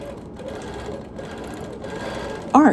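A longarm quilting machine freehand-stitching arcs along a piano key border of a quilt, running as a steady hum with a louder burst right at the end.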